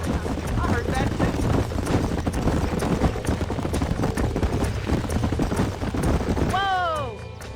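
Horse hooves galloping in Red Dead Redemption, a steady rapid clip-clop under background game sound, ending with a horse's whinny near the close.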